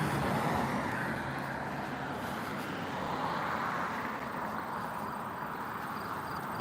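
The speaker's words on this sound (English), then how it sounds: "There's a lot of silver cars coming up the street." Cars drive up a street in a steady, moderately distant wash of road traffic noise, continuous tire and engine rumble with no single pass standing out and no talk.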